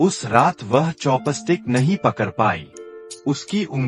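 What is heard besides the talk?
None of the usual background noises is heard.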